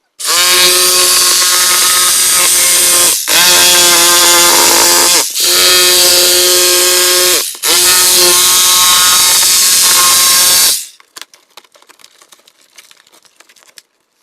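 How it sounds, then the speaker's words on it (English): A reciprocating saw (Sawzall) cutting through drywall down along a wall stud, a loud close buzzing drone in several long bursts with brief stops, then trailing off into faint crackles and debris. "using a Sawzall like this doesn't damage the stud. You can cut right down on the stud."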